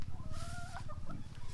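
Gamefowl chickens on a small backyard game farm cluck softly and repeatedly over a brief stretch, fairly quiet and nearby, with faint background noise.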